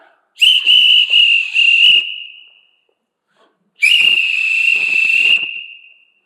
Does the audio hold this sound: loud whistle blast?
yes